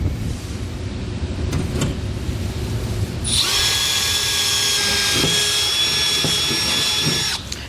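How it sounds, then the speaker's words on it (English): A cordless drill whirs steadily, then its motor pitch rises and holds as it bites through a pickup truck's steel bed and cross member, loud and close, before winding down. "drill a pilot hole in each marked location."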